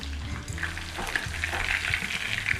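Chicken pakoda frying in oil over a low flame, a steady close sizzle and crackle with light stirring, no talk.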